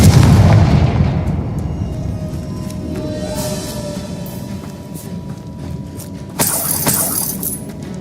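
Confringo blasting spell going off in Hogwarts Legacy, a loud booming burst at the start that rumbles and fades, followed by a sharp shattering crack of debris partway through, with no talking.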